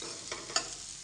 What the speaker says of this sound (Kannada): ಇವನ್ನ ಚೆನ್ನಾಗಿ ಮೊದಲು ಫ್ರೈ ಮಾಡ್ಕೋಬೇಕು.